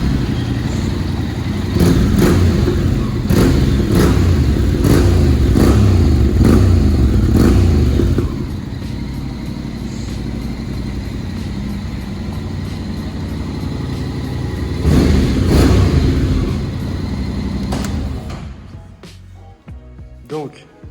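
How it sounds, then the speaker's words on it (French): A Honda Integra 700 scooter with an open exhaust that has its baffle removed idles loudly nearby. Repeated throttle blips rise and fall over about twenty seconds, and the engine cuts off at the end. "Donc, je vais vous le démarrer."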